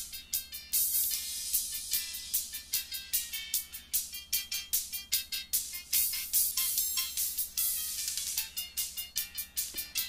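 The highest frequency band of a test sound, soloed in the Waves StudioRack plugin, comes through as a bright, airy stream of rapid clicking bursts in an uneven rhythm, quiet and thin, with no voices.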